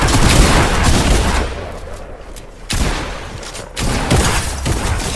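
Loud volleys of video game gunfire, dense rattling bursts close up that thin out briefly mid-clip, then resume in two more strong bursts.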